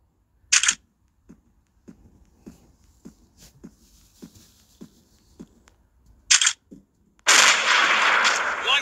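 An M200 sniper rifle fires in a video game, with two sharp loud cracks about six seconds apart, a run of soft regular clicks between them, and a long loud burst of noise at the end.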